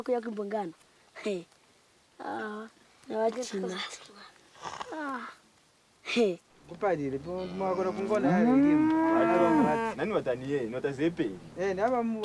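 Cattle being sold to a cattle trader, with a few short voices at first, then a long, loud, close moo that rises and falls in pitch and lasts several seconds.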